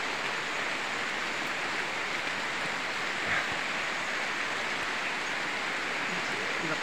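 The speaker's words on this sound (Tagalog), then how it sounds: "Lakas ng ulan talaga mga idol." Heavy rain pours steadily in a tropical outdoor setting, a dense continuous hiss and patter at constant loudness with no voices.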